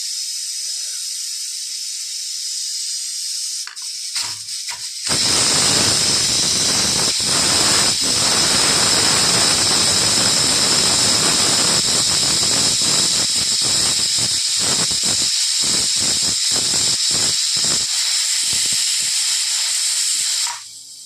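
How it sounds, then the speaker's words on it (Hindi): A pressure cooker lets out a loud, sustained hiss of escaping steam, starting abruptly and running about fifteen seconds before cutting off. "जब हमारे कुकर में सीटी आने वाली है, ये देखो।"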